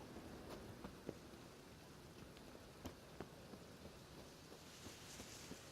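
Rain falling steadily in The Witcher 3 video game, with scattered crackles and soft thunder rumbles at low level, no voices.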